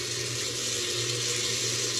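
Tamarind water blended with tomatoes and onion pours steadily into a pan, a continuous close liquid rush with a dull rumbling undertone and no talking.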